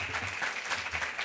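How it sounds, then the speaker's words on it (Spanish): An audience claps warmly at a writers' workshop event, a steady, dense patter of many hands filling the room without pause. "Por favor, un aplauso para él."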